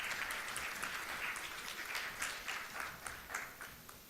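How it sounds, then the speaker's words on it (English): An audience at a women's leadership event applauds steadily, a dense wash of clapping heard on its own at moderate distance without talk. "Please give her a big round of applause."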